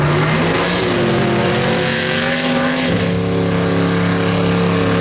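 A Mark 1 Ford Capri running a small block Chevrolet V8 at a no-prep drag race, with a loud sustained engine roar and rising revving tones of racing cars close by.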